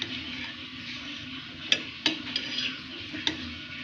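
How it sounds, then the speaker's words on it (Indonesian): A spoon stirs a hot drink in a pot on the stove, scraping and clinking against the metal in a few sharp knocks over a steady low simmering hiss, with no talking. "sambil diaduk untuk biar merata"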